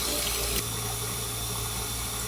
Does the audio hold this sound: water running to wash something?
yes